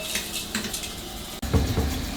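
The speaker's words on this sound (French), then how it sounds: "On va remplir d'eau." A cooking pot being filled with water for heating jars of olive-oil-preserved peppers, a steady broadband pour from a tap that briefly cuts out, then resumes with a fuller, deeper gush into the pot.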